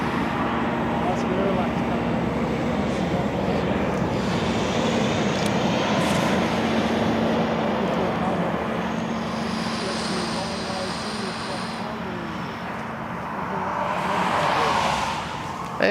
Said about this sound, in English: Air Transat being tugged.